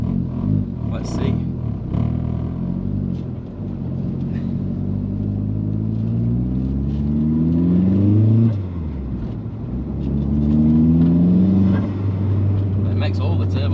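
An old Vauxhall Zafira GSI family SUV revs up through two rising pulls, its turbocharged engine droning louder with each climb, while people talk lightly underneath.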